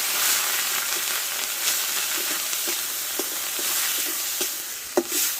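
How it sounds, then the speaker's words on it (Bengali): Onion, garlic and ginger paste frying in a pan for a thin mutton curry, with a steady close sizzle and hiss broken by stirring scrapes and clicks of a spoon, no voices. "আদা রসুন পেঁয়াজটা একটু ভালো করে আমি ভেজে নেব"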